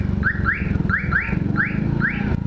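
A vehicle horn blares a rapid series of rising, whooping chirps, about six in a row, loud over a low engine rumble.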